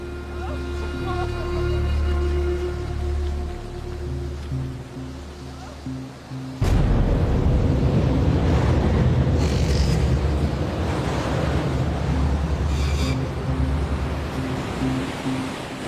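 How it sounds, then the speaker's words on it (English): Storm waves and strong wind at sea buffet a sailboat, a steady roaring wash that surges suddenly louder partway through and stays heavy, with low tonal hum beneath in the first part. "John pinned down beneath the immovable mast, the Silverwood family can do nothing but hunker down and pray for the waves to subside"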